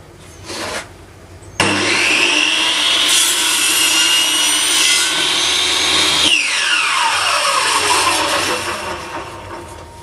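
A power saw cuts through a measured piece of wood in a workshop, starting abruptly and whining loud and close for several seconds, then spinning down as the cut ends.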